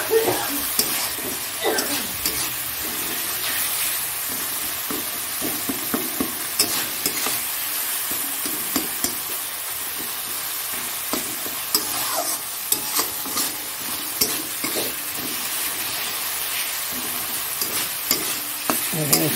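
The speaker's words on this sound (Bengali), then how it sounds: "এটা ভালো করে এখন নাড়াচাড়া করি।" Chicken curry stirred and frying in a pan: a steady sizzle runs throughout while a utensil scrapes and stirs in irregular bursts, close and moderately loud, with no talk.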